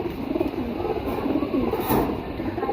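Pigeons cooing at close range, soft low murmuring coos that repeat over a faint background hum.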